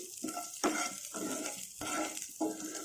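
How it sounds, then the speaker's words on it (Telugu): Spices crackle in hot oil for a tempering poured over sesame-coconut chutney, heard as fairly quiet, close sizzling bursts that come and go in an uneven rhythm with short gaps between them. "ఇప్పుడు మనం పోపు పెట్టుకుందాం"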